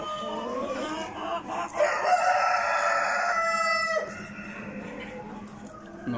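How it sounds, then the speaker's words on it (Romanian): A Silver Orange rooster crows loudly and close at a national poultry exhibition, one long drawn-out call lasting a couple of seconds, with hall noise before and after. "Și arată cocoșul pe Silver Orange."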